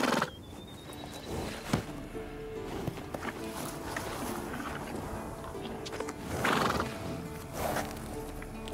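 Horses whinny and hooves clip-clop in The Witcher 3 Next Gen, with loud neighs rising over a steady ambient game soundscape and plodding hoofbeats.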